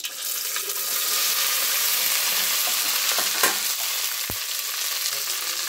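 Okra pieces fry in oil tempered with cumin, mustard seeds and dried red chillies, producing a loud, continuous bright sizzle close by with occasional faint scrapes and a single knock of a spoon.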